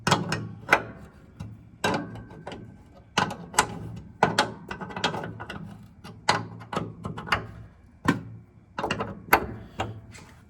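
Bolts on a Porsche 914 hood being loosened with a ratchet: repeated close, sharp metallic clicks and ratcheting bursts in an irregular rhythm, fairly loud against a quiet background.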